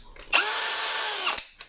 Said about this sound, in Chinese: 原装的电钻测试放电